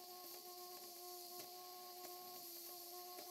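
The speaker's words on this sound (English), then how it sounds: "it's blowing off at just under 50 pounds per square inch" A model steam plant boiler's safety valve blowing off at just under 50 psi, a continuous loud hiss with steady whistling tones and small pulsing surges, alone without talk.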